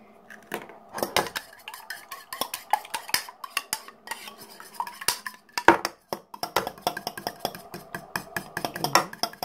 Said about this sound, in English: Para sa ating sauce, magbibit tayo ng isang egg.